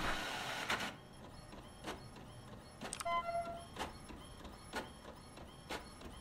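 In the video game The Mortuary Assistant, a printer runs off a document with a series of evenly spaced mechanical feed clicks and whirs. It is faint, close and alone.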